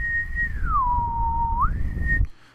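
A lone person whistles a clear, pure tone that glides down, holds a lower pitch, then rises back up before stopping abruptly, close and prominent against a quiet background.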